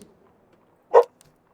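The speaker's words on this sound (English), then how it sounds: "Please excuse my dog." A dog gives one short, sharp bark close by in an otherwise quiet indoor room, with a faint clicking after it.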